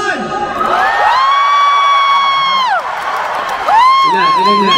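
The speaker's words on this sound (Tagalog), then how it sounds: "pinakamalakas sa palakpak na may kasamang hiyaw para sa ating singer number 1" A studio audience at a singing contest roars for singer number 1, long sustained whoops and shouts rising and bending in pitch over a dense crowd, loud and close throughout.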